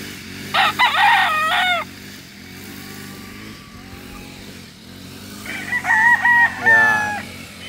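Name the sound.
Boston roundhead rooster crowing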